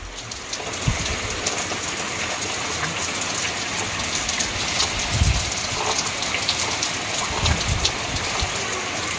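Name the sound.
heavy rain outside window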